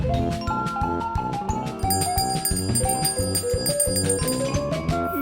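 A bell rings with sustained, shimmering high tones layered over a looping, upbeat music track.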